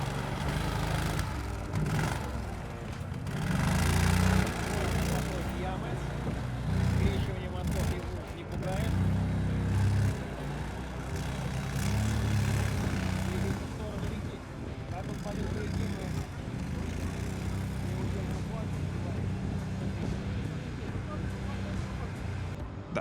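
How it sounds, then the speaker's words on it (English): A homemade articulated-frame ATV, the Russohod, with a 2-cylinder 30 horsepower engine, drives off along a competition route. Its steady engine drone runs loud throughout, with some wind buffeting, and voices talk over it. "The all-terrain vehicle Russohod begins to pass the route"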